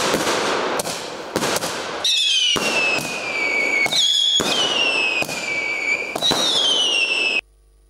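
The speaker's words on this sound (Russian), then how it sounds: "Завершение торжественной церемонии открытия мемориала «Руж» прогремели залпы салюта." Salute fireworks fired in volleys at the opening ceremony of a war memorial, loud repeated booms and crackling bursts in a regular rhythm, some with rising whistles, and no voices over them.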